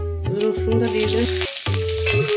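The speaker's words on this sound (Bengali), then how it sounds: "রসুনটা দিয়ে দেবেন।" Garlic goes into hot oil already tempered with mace, cinnamon, cardamom and cloves for malai dahi paneer, a steady close sizzle beneath prominent tonal background music.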